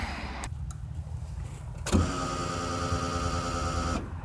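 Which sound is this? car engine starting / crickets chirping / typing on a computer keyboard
car engine starting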